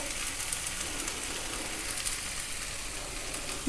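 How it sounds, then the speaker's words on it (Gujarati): Farali dosa batter sizzles in a little oil on a pan over medium heat, a steady close crackling hiss with small pops throughout. "મીડિયમ તાપ ઉપર કરી દઈશું અને ચારે બાજુ તેલ થોડું નાખીશું"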